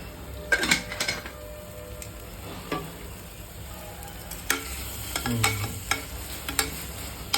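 Onions sautéing with salt in a home pan give a low steady sizzle, broken by several sharp scrapes and clinks of a spoon stirring against the metal.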